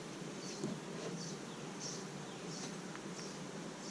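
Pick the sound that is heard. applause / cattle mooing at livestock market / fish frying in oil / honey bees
honey bees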